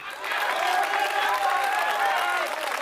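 An audience at a Hindi comedy poetry show applauds in a steady, dense wash of clapping that lasts throughout, with cheering and voices mixed in.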